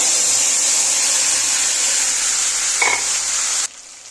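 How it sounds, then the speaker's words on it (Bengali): A ground paste of ginger, cumin, garlic and onion fries in a pan for an egg and potato curry, giving a steady close hiss with one brief scrape before it cuts off abruptly near the end; no voices. "এবার আমি মশলাটা কষিয়ে নেব।"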